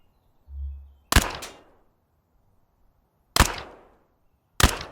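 Three sharp gunshots fired at targets in the video game Thunder Tier One, spaced out with pauses between them, each crisp and loud with a short decaying tail, preceded by a brief low hum.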